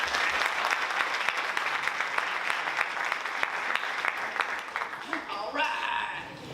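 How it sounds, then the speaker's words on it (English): Out-of-state students in a campus audience clap their hands together, a sustained burst of crowd applause with crisp individual claps that thins out near the end as a voice begins speaking. "If you are an out-of-state student here tonight, clap your hands."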